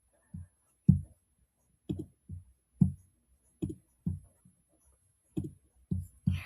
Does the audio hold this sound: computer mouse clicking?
yes